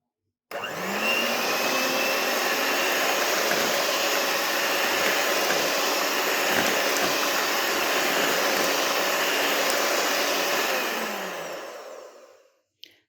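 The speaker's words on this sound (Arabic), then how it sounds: "وبعد كده هشغل على اهدى حاجة في المضرب" An electric hand mixer on its lowest speed beats cake batter, its motor whirring up abruptly, holding a steady whiny drone close by, then winding down and stopping.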